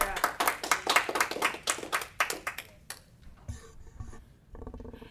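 Audience applause at a special Eureka city council meeting: a dense burst of clapping from many hands for about three seconds that then dies away into quieter room noise and scattered shuffling.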